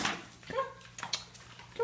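A young puppy makes a few short, faint whimpers and whines in a kitchen, scattered across a couple of seconds at close range.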